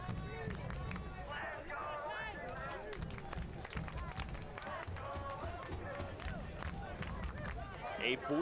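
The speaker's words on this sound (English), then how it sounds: "A boisterous crowd in attendance tonight at Toyota Stadium" A boisterous soccer crowd at Toyota Stadium fills the night match between Lexington SC and Chattanooga Red Wolves SC with dense, continuous roar and babble, heard from a distance without sharp peaks.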